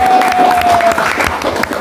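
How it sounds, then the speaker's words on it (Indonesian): Brief burst of clapping from a small group closing an Indonesian student podcast, loud and close, with voices mixed in and a steady tone running under the first half. "tepuk tangan untuk kita bertiga"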